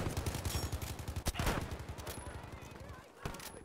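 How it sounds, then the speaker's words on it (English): Gewehr M95 rifle fire in Battlefield V, several sharp, loud shots cracking close amid a dense, rapid rattle of battle noise and other gunfire that slowly thins out. "I feel very sure where the bullet's going whenever I shoot this gun"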